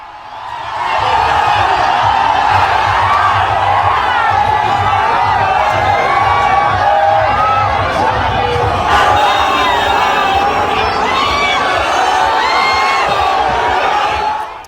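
Large crowd at a Yogi Adityanath road show during a West Bengal election campaign, a dense, loud, continuous roar of many voices with shouts and cheers, steady throughout with scattered whoops and chants.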